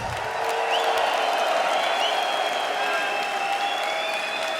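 A large crowd at an arm wrestling event in Germany bursts into sustained applause with some cheering and whoops, a dense roar of clapping that fills the room.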